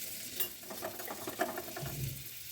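Cumin, chillies and potato fry in melted butter in a pan, a soft continuous sizzle with light stirring scrapes and small pops, fairly quiet and steady with no voices.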